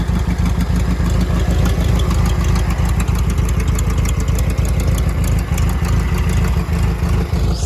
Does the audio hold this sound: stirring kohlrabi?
no